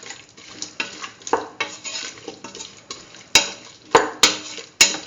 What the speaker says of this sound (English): let the mixture get incorporated to the rest of the ingredients.